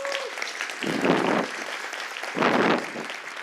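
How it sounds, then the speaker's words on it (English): An audience at a real estate panel event claps in two short bursts of applause, moderately loud with a pause between, and no one speaking over it. "Round of applause for everybody."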